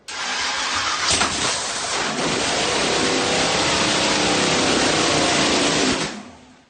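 A 1000 horsepower blown small-block Chevy in a front-engine dragster fires up for the first time, cranking then catching into a very loud, raw, sustained roar close by that holds for several seconds before cutting out.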